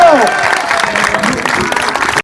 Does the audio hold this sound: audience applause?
yes